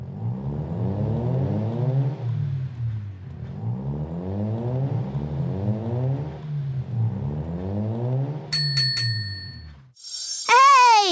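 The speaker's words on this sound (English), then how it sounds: "Drag the car round the track." A toy car dragged round the track in a device board game, heard as three rising, revving engine sweeps, each about two seconds long, followed by a quick series of chimes and a bright descending jingle.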